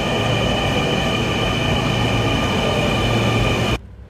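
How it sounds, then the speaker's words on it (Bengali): A Dhaka Metro Rail train arrives at the station with a steady, loud rumbling roar and faint wheel squeal, holding constant until it cuts off abruptly near the end. "দেখুন কিভাবে চলে আসলো ট্রেনটি"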